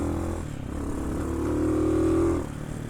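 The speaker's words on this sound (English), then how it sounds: "This is really my first time riding a dirt bike off-road." A Hawk 250 dirt bike rides off-road, its single-cylinder engine droning steadily close by, rising briefly in pitch as the throttle opens and then settling back, with no talk over it.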